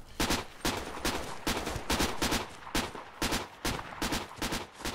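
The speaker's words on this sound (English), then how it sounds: "They're shooting at us." Bursts of rifle fire crackle in Project Reality on the Goose Green Falklands map, sharp rapid volleys repeating at a steady pace, fairly distant and mixed with overlapping shots from several guns.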